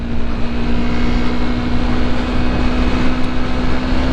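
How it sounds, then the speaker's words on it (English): Steady, loud roar of wind buffeting a rider on a Honda CRF250L 250cc dual-sport motorcycle on the freeway, mixed with a constant engine drone and a sustained hum, unbroken for the whole stretch. "get ready for some wind noise"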